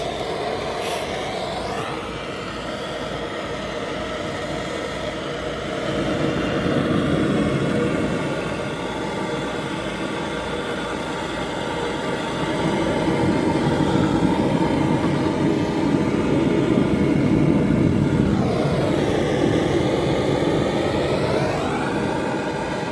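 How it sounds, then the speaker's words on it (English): A torch flame roars steadily against the cast iron generator manifold of a Tourist camp stove under restoration, a loud continuous rushing that swells midway and shifts in tone near the end. "So I'm going to heat this generator. I'm going to heat this cast iron manifold there"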